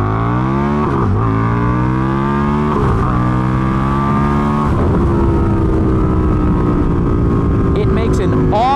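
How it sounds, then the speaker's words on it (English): A 2019 Indian FTR1200S motorcycle accelerates hard through several gears on a bridge, its engine note rising loudly in pulls broken by quick shift dips, recorded close from the rider's position with wind rush building. "So let's get a little acceleration test here as we enter the 360 bridge on Austin."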